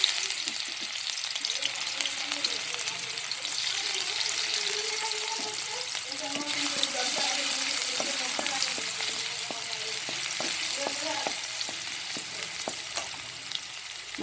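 Chopped ginger and garlic fry in a small amount of oil in a kadhai, giving a steady, close sizzle with occasional stirring scrapes throughout.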